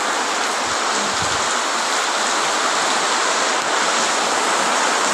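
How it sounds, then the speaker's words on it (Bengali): Heavy monsoon rain pours down with water flowing, a loud, dense, unbroken roar filling the whole stretch, with a couple of faint low thumps early on and no talking. "প্রচুর পরিমাণে বর্ষা হচ্ছে"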